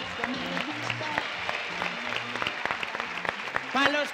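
Studio audience applause on a Colombian television variety show, a steady wash of clapping from a crowd with music and a host talking over it, swelling briefly near the end.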